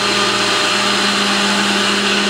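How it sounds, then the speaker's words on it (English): A HadinEEon GS-651 adjustable-speed blender blends banana milk with a loud, steady motor whir, close and continuous without pauses. "Blending it up perfectly"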